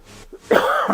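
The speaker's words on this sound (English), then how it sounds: "Pardon me and my cough." A single person coughing close by, a short throaty clearing followed by one harsh, loud cough burst at the end.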